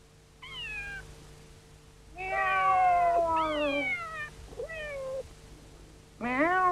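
A person imitates a cat's meow as a signal, giving several falling, cat-like mews in separate bursts. The calls are fairly close and clear over a steady low hum, with no ordinary talk.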